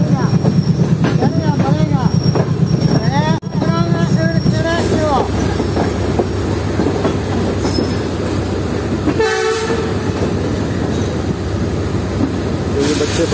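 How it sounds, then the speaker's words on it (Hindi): Business-class Green Line coaches of the Hazara Express rolling past at a Pakistani station, a steady rumbling train sound with a brief horn-like tone, clattering through the whole stretch with voices and background activity. "ग्रीन लाइन के बिजनेस क्लास के दो कोचेस जा रहे हैं हजारा एक्सप्रेस में"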